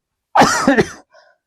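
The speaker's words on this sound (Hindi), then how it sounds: "थोड़ा सा खांसी हो जाने का थोड़ा परेशानी हो रहा है" A single close, harsh cough breaking into a short throat-clearing rasp, followed by a faint brief wheeze, then silence.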